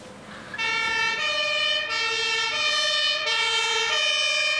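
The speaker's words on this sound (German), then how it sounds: "So nennen die Berliner diesen Krankenwagen der Feuerwehr, der eigens dazu da ist, schwangere Frauen zur Geburt in die Klinik zu bringen" A Berlin fire brigade ambulance, the service that carries pregnant women to the clinic, sounds its siren. The loud two-tone wail starts after a brief moment and alternates steadily, close by and alone.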